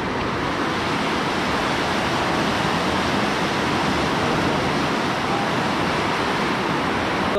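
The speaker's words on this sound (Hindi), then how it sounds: "उसमें को देखो पांच के पांच में से जो है पानी निकल रहा है।" Water rushes out of the Ramganga Dam canal gates in a steady, loud, dense roar that continues unbroken from start to finish.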